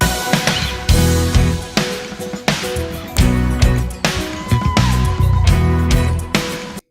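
A duplicated snare-top track, heavily squashed by a 2A-style compressor, hits loud and punchy in a steady groove with other drum hits, the ghost notes brought up between the main strikes.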